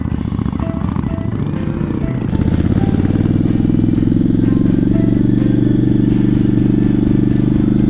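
A motorcycle engine runs loud and close, idling then revving into a steady rough drone with rattling mechanical clatter.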